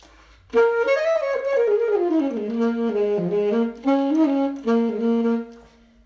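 A saxophone plays a short blues phrase that slides down through several notes and comes to rest on a steady held final note on the tonic, solo and up close.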